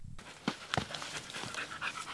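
Search and rescue dogs from a Philippine canine team pant on a mission up Mt. Halcon, giving quick, breathy huffs close by with a few sharper bursts and no talking.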